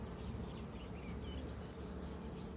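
Buckfast honeybees drone softly around an open hive in Çorum, a faint steady buzz with occasional nearer wingbeats passing by.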